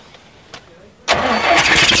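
A car engine running on only three cylinders cranks and catches, then runs roughly and loudly in a rumbling idle after a second of quiet.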